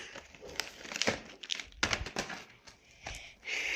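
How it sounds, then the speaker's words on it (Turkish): Advent calendar packaging is opened up close, with soft crinkling, crumpling and small tearing noises in uneven bursts at a quiet level. "Bugün sizlerle birlikte Advent Calendar açıyoruz."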